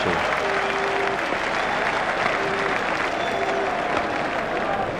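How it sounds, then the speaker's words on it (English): A cricket crowd at a T20 World Cup match between Sri Lanka and South Africa applauds and cheers a shot, sustained loud clapping filling the stands with a few horn-like tones above it. "The crowd enjoyed that one."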